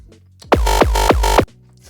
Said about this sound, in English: So I ended up with this kick.